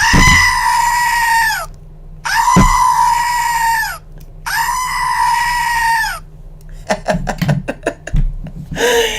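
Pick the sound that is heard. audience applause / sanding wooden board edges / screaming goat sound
screaming goat sound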